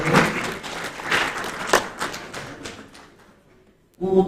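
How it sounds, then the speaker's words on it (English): Brief audience applause at a formal institute event, a scattered burst of clapping that thins and fades after a few seconds before a voice resumes at the end. "Please a round of applause for him."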